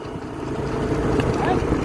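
Hooves clip-clop in a steady rhythm as two mares are ridden outdoors, partly buried under loud talk and broad background noise.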